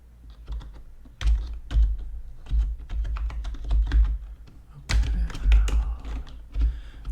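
Close, crisp computer keyboard typing in irregular bursts of rapid clicks and taps, recorded softly for ASMR with no talking.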